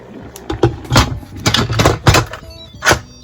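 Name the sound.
Instant Pot lid being sealed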